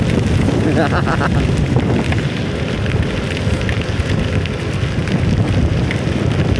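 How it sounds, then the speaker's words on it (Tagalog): Heavy rain pours steadily during a motorcycle ride, a loud dense hiss with wind buffeting the microphone throughout, no talk. "Malakas pa rin ang ulan."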